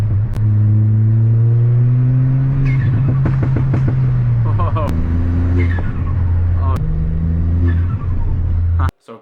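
Ford Fiesta ST engine fitted with a Whoosh ram air intake and silicone hose, idling with a steady low drone, then blipped through several sharp revs that rise and fall, loud and close, ending abruptly.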